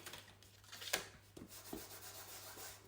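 An embossing buddy is rubbed over paper during card making, producing soft, close, brushing scrapes in short uneven strokes, with one sharper tap partway through, against quiet background hum.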